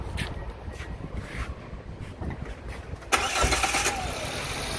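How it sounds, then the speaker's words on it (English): A car engine cranks and fires up during an engine cleaning foam treatment, a few uneven starter turns followed by a sudden loud catch into a steady, rough idle, close by with no talk. "Start her up."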